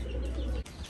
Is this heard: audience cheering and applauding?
no